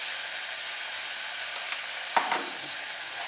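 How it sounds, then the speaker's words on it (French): Butternut squash curry is stirred in a pot on the stove, with a continuous soft sizzle and a couple of brief scraping stir strokes partway through. "On mélange bien."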